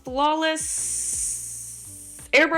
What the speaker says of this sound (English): spray my face with the Charlotte Tilbury Airbrush